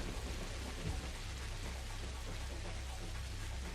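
Steady heavy rain falling in the video game Pathologic, a dense constant wash with a low rumble of thunder underneath, no voices.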